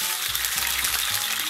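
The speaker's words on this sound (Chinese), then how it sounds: "油温微微热啊，咱们把葱姜蒜给它下里边" Scallion, ginger and garlic hit lightly warmed oil in a wok and sizzle steadily, a continuous bright frying hiss close by that swells slightly as they settle, with no talking.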